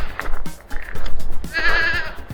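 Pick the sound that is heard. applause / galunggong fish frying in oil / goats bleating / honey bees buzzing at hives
goats bleating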